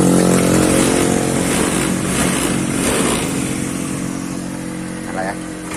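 A Honda Vario Techno scooter engine fires up and runs with a steady mid-pitched drone, loud and close throughout, with a voice speaking briefly over it.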